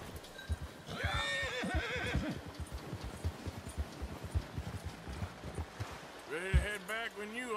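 A horse in the video game Red Dead Redemption 2 gives loud whinnies at the start and end, with hoof clip-clops and game noise between.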